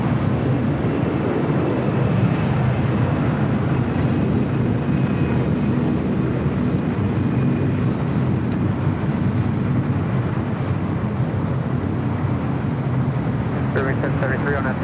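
A passenger jet on the Auckland flight at LAX makes a continuous broad roar that holds steady throughout, with people talking over it.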